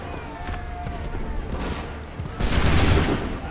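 Musket volley gunfire in Assassin's Creed III, a burst of overlapping shots rising loudly near the end after softer scattered reports, with shouted commands in the scene.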